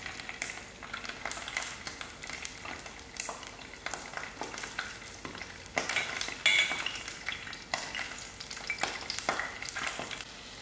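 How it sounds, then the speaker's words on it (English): Dried Bombay duck fish fry crisply in hot oil, giving a steady close sizzle, broken by intermittent stirring scrapes and light clinks of utensils against the pan. "Now while my fish is frying,"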